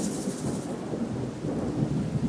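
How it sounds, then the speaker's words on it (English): Thunderstorm sound effect: continuous rumbling thunder mixed with steady rain, swelling and easing in loudness without any voices. "a terrible storm exploded in the sky"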